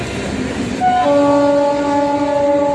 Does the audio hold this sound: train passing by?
yes